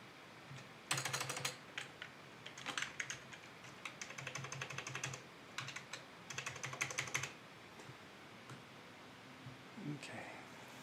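Code being typed on a computer keyboard: bursts of quick, close key clicks with short pauses in between, fading to a few scattered taps near the end.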